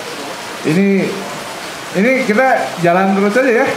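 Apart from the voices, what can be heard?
rain falling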